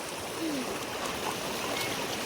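River water flows around people crossing on foot near Dhamote village. It makes a steady, moderately faint rushing wash with light trickles and no talk.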